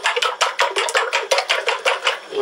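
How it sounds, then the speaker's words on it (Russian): A grandmother whisks eggs, salt and kefir for pancake batter in a bowl, the whisk clattering in a quick, steady rhythm of sharp metallic taps, close and fairly loud with no talk. "Я взбиваю"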